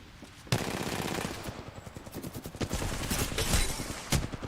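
Rapid bursts of video game gunfire crackle through the mix, with a sharp onset near the start and repeated clustered volleys that keep a dense, loud rattle going throughout.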